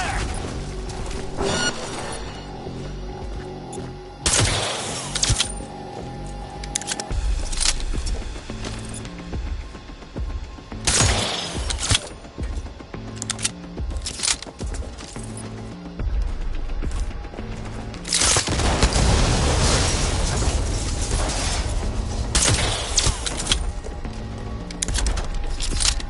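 Gunfire in the video game Cyberpunk 2077, repeated loud bursts of shots and crashing impacts over a continuous mechanical game soundscape, with heavier volleys clustering throughout and a dense, sustained firefight near the end.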